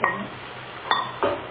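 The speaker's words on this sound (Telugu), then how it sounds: "మూత పెట్టండి." A metal lid clatters onto a cooking pot of bitter gourd curry with coconut and sesame, with a few short, close clinks and knocks spaced within a second or so.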